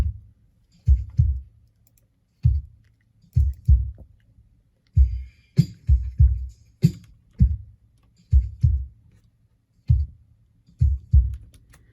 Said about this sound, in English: So the original kick here at 0 without the filter sounds like this